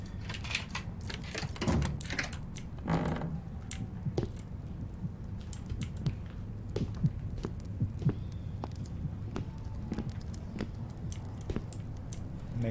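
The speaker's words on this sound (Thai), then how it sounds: "เสียงหัวใจเต้น" A heart lying in a basin keeps beating in a horror video game, giving slow, muffled, throbbing pulses over a dark low hum, with occasional faint knocks and creaks scattered through the scene.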